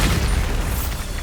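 A Bombarda blasting spell detonates in Hogwarts Legacy, a loud low boom that fills the whole moment with rumbling bass and no voices.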